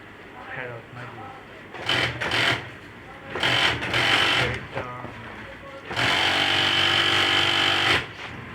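A sewing machine stitching kantha embroidery runs in bursts, whirring loudly for a second or two at a time and then in one longer stretch near the end, with a person talking between and over the runs.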